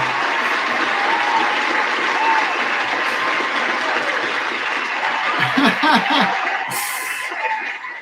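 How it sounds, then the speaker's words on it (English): Applause during a live product giveaway stream: a steady wash of clapping runs throughout at moderate level, with a voice and light chuckles layered over it near the end. "Let's give BC a round of applause here, if we could."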